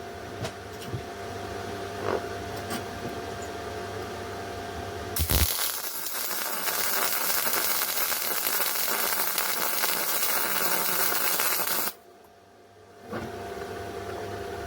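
A Hitbox MT2000 inverter welder runs MIG at full power with extra wire feed, putting out a loud, continuous harsh crackling buzz for several seconds, then a short pause before the arc resumes.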